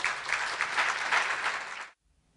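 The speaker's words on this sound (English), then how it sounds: "A big round of applause for Samantha." An awards luncheon audience claps for an honoree, a steady, fairly loud round of applause filling the room for about two seconds before cutting off abruptly into near silence.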